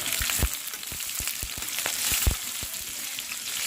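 Chillies and carrot frying in a pan for veg noodles: a steady broadband sizzle under a series of sharp utensil knocks and scrapes, close and fairly loud.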